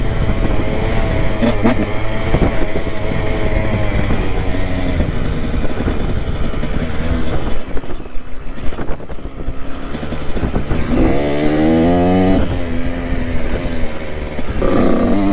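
Motocross bike engine on a mountain ride, droning loud and close throughout, its pitch climbing as the rider revs and shifts up through the gears near the end.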